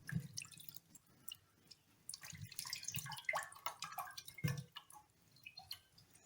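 Water is sprinkled by hand onto a dry kitchen cloth used to wrap sprouted green gram. Several close, soft splashes and patters come in bursts with scattered drips between them, and no one speaks.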